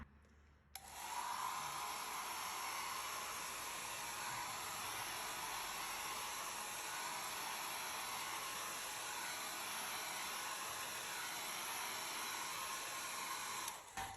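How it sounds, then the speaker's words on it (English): A hair dryer on a low setting drying a gel printing plate, switching on after a moment and then blowing with a steady, even airy whoosh close by before cutting off at the end. "So I like to sometimes use a dryer on a low setting."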